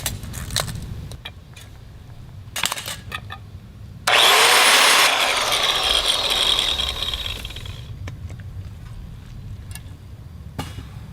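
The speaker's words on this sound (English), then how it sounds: "See, I do have an angle grinder." A loud angle grinder kicks in abruptly, whines at full speed for about four seconds, then cuts off. It runs alone, with faint clicks and rustling around it on an off-grid farm.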